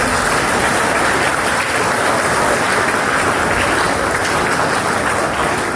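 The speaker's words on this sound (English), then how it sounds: "Let's give a big round of applause." An audience at an Independence Day celebration claps enthusiastically after a performance, dense, sustained applause filling the space at full volume for several seconds.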